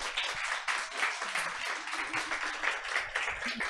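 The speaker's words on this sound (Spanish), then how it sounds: "Les pido por favor un aplauso." Audience applause at a university faculty ceremony where certificates are handed out, steady dense clapping filling the whole stretch, moderately loud and continuous with no talk over it.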